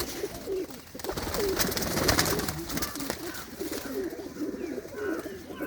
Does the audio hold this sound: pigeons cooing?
yes